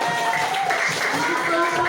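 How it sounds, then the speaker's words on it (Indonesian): A classroom of students claps hands together, a dense steady patter of applause with a teacher's voice speaking over it. "Tepuk tangan dong."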